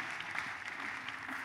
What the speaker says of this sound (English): Put your hands together for the glory of God.